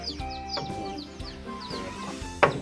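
Chickens clucking inside a coop, giving a string of short, close, chirpy clucks and squawks at a moderate level, with a sharper burst near the end.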